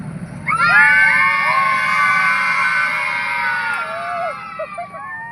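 A large group of schoolgirls on a school trip to a garden in Gandhinagar shout together in a loud, sustained high-pitched cheer that fades into scattered calls.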